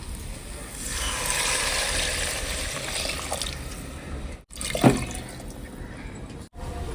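Mutton stock pours steadily into a pot, a soft splashing trickle that fades after a few seconds, followed by a brief clink and quieter kitchen sounds.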